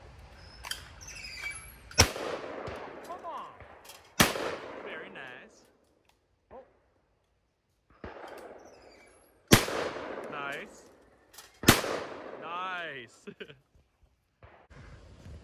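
Shotgun blasts at a sporting clays range, likely from a VEPR 12 or Saiga 12, ring out as four or five loud, sharp single reports at uneven intervals, with people calling and talking between shots.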